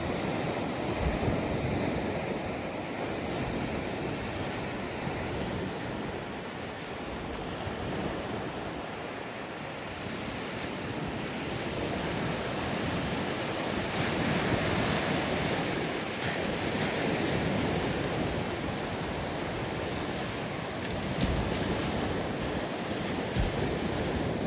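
Waves breaking steadily on an empty beach at sunrise on the Costa Daurada, a continuous loud wash of surf mixed with wind buffeting the microphone, with no talk.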